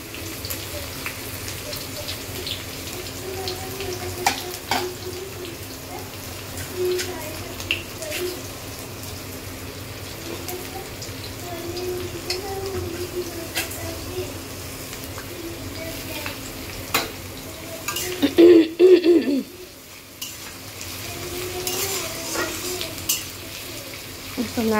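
Chopped onion frying in hot oil in a pan, a continuous close sizzle broken by scraping stirs, with a brief clatter and a short lull near the end.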